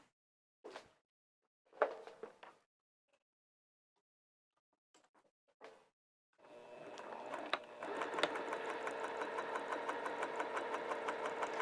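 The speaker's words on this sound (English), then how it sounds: "Now what we're going to do is sew right across that top at 1/4 inch seam allowance." A sewing machine stitches a quarter-inch seam across the top of fabric and runs with a steady rapid mechanical whir for several seconds. Before it starts there are a few soft handling rustles and quiet moments.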